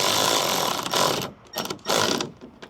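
A hand wrench ratchets bolts on a plastic Swing Case tool box in a 2017 Ford F150 truck bed, giving two bursts of rapid close clicking separated by a short pause, with no talk.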